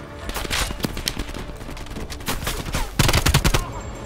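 Rapid bursts of automatic gunfire from the video game Black Ops Cold War crackle close and loud, with repeated volleys and a dense fusillade near the end.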